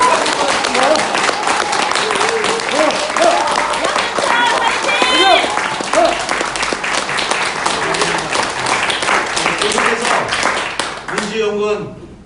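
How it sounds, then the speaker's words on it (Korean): A crowd at a Democratic Party campaign office event in Jecheon, South Korea, breaks into loud, sustained applause and clapping lasting about eleven seconds, with voices mixed in before it fades at the end. "여러분 힘차게 박수로 환영해 주십시오."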